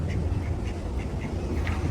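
Ducks on the Grand Canal in Venice give repeated short quacks over a steady wash of outdoor background noise, with no voices.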